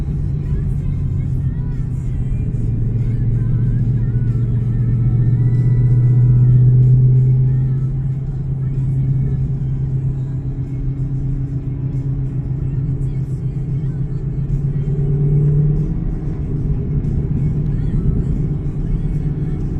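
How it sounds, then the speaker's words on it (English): A V8 car rumbles along a road from inside the cabin, a deep continuous exhaust drone that swells gently a couple of times as the throttle changes, with no talk over it. "It's all about that excitement, that exhaust note, that V8 motor appeal."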